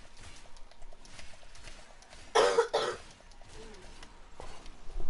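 A person coughs in a short double burst, fairly close, rising over background game audio and low voices.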